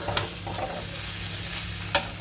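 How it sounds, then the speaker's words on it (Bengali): Washed rice and lentils sizzle and crackle steadily in hot oil, with a couple of sharp clinks from a utensil against the pan. "ধুয়ে রাখা চাল ডালটা একটু ভাজা ভাজা করে নিয়ে"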